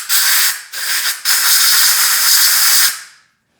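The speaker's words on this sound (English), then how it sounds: "give it a final rinse with some brake cleaner" Brake cleaner sprayed from an aerosol can to rinse thread holes in an aluminum engine block from a BMW M54/M52: a loud, close, steady hiss broken by two short pauses, then one long burst that fades out.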